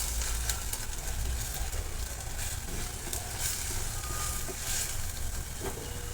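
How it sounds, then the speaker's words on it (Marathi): Masala cooks in oil for an egg curry, a continuous close, dense sizzle and crackle throughout, with faint stirring sounds in the pan. "व्यवस्थित हे सर्व तेल सुटेपर्यंत भाजून घ्यायचं"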